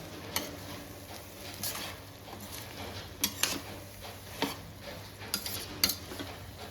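A utensil scrapes and taps against a pan of meal maker tomato rice in irregular bursts, light metallic clinks over a steady low background hum.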